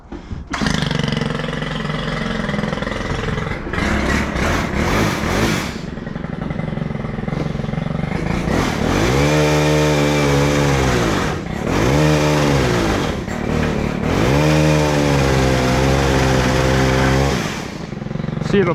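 Small chainsaw engine running loud and close throughout, its pitch sagging and recovering several times as it bogs down while held sideways, with a voice briefly audible.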